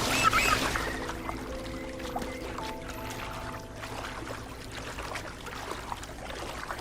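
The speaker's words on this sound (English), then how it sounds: "That's a really big waterfall." Steady rushing of a large waterfall in the video game Wuthering Waves, a continuous broadband wash of falling water heard fairly close, with a soft game music tone layered beneath and no speech.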